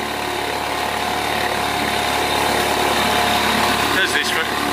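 Two-stroke engine running rich, a steady buzzing drone held close and constant, with voices talking over it.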